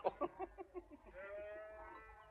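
Sheep bleat in a short series of wavering calls, several quick pulses followed by one longer drawn-out bleat, fairly close and alone without talk.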